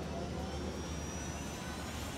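A helicopter engine runs in the video game Ghost Recon Wildlands, a loud, constant whooshing roar that fills the whole stretch without pause.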